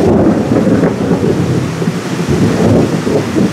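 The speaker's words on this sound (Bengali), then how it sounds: "এক্ষুনি একটা প্রচণ্ড জোরে বাজ পড়লো" Loud thunder rumbles through a heavy downpour at a resort in Purulia. It is a steady, close roar of rain with deep rolling thunder and no voices.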